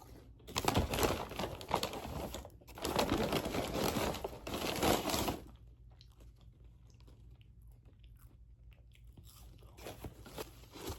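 Someone eating McDonald's fries close to the mic, a dense run of crunchy bites and chewing with crinkling, louder for the first five seconds, then softer chewing.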